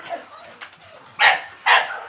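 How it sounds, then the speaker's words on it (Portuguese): Two loud, sharp French Bulldog barks close by, coming about half a second apart after some faint softer yips and background noise, at a kennel. "Vocês estão vendo assim, os cães"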